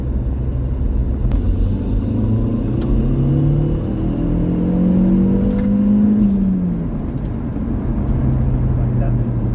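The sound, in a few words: Golf MK4 GTI AGU engine accelerating in third gear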